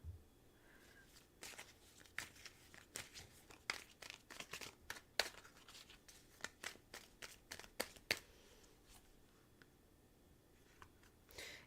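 Tarot cards shuffled and drawn from a deck in a quiet room, a long run of soft, irregular papery flicks and taps, close and faint, with no one talking.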